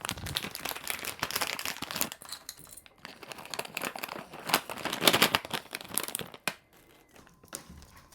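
Homemade dog treats such as beef jerky packed into bags, with close, steady crinkling and rustling of plastic packaging that fades into quiet near the end.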